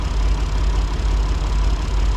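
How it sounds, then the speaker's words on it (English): A tractor engine drones steadily at close range, low and constant, while it pulls a roller over a gravel workshop pad. "get the tractor out here and pull the roller with the tractor"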